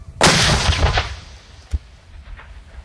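A Civil War cannon fires canister shot with one loud, sharp outdoor boom that rumbles away, followed by a distant thud.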